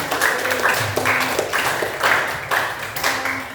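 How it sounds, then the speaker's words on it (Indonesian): Steady applause from a classroom audience of students, many hands clapping continuously with rhythmic surges throughout. "tepuk tangan buat pertama"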